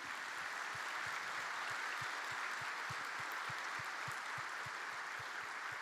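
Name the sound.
church congregation applauding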